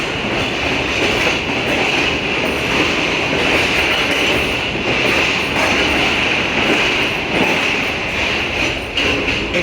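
The Khyber Mail passenger train runs past on the railway. A loud, steady rush of wheels and carriages fills the whole stretch close by, with rolling rail noise and no break.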